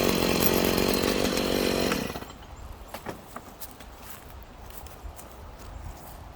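A Stihl MS 290 chainsaw with a chain-spin fault is heard for two seconds as a loud buzzing drone, then drops to a low idle with faint rattles and ticks.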